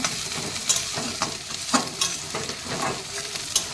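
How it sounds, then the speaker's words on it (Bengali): Garlic leaves frying in a pan, lively sizzling broken by repeated spoon scrapes and knocks against the pan at an irregular rhythm, close and clear. "দেখো এবার রসুনের পাতাটা দিয়ে ভাজবো"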